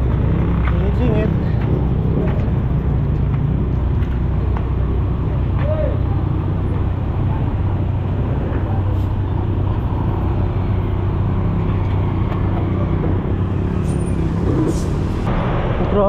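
Heavy road traffic on a long motorcycle ride, a loud, constant rumble of engines and passing vehicles close by with an occasional brake hiss, someone talking over it.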